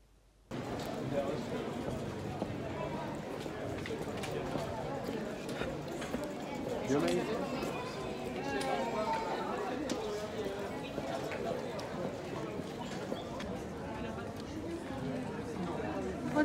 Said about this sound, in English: What is the horse doing here?